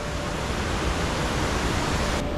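A waterfall beside an icy trail on a 15-degree winter day roars in a steady, dense wash of noise, loud and continuous with no break.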